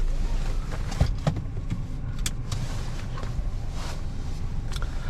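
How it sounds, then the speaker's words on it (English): Engine of a 2021 Nissan Juke Tekna, 117 HP with a dual-clutch automatic, turning over and settling into a steady idle after a start-button press inside the cabin, with a couple of faint clicks near the start. "You start the car by pressing this start engine button and it comes to life."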